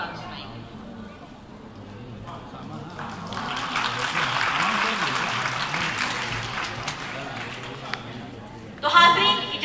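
Audience applause at a mushaira, a broad wash of clapping that swells and holds for several seconds, with a voice speaking over it.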